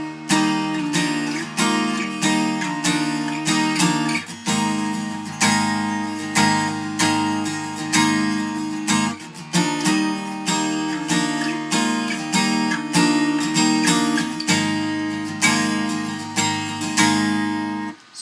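Guitar playing the chord part of a song: steady strummed chords with a regular rhythm, continuous and fairly loud throughout, no voice.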